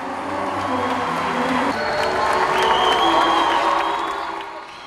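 World Camp attendees cheer and applaud at the opening, welcoming President Jeanine Áñez and Pastor Ock Soo Park with a loud, sustained roar of clapping and whoops that swells and then fades slightly.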